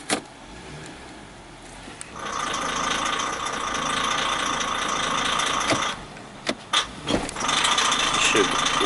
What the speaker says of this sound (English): It really revs up pretty hard in gear.